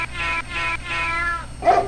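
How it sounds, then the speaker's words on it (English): Magical cattails in the King's Quest VI adventure game meow like cats, four short close meows in quick succession, the last one sharper and higher. "They're meowing."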